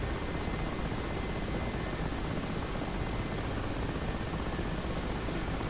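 Mi-8 helicopter in the DCS flight game, a steady loud rotor and turbine roar held evenly throughout with no pauses and no talking.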